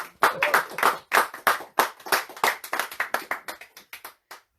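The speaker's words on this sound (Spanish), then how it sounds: "Aplaudo al Rey." A church congregation claps during a sermon on the sin offering. Loud bursts of hand claps come in irregular clusters, then thin out and fade to silence, with no voices over them.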